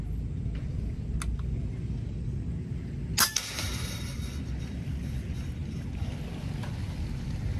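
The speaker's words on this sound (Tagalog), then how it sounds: "dinig mo naman yung tunog ng bakal na umiikot" A PCP air rifle pellet strikes a spinning steel target with one sharp metallic clang midway. A few fainter ticks sit under a steady outdoor wind-like hiss.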